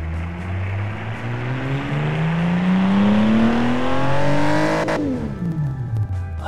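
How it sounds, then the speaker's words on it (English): A 1955 sports coupe engine in BeamNG revs up steadily with a rising, throaty exhaust note, then drops sharply as the driver lifts off, loud and close. "that sounds like a proper little sports car from 1955"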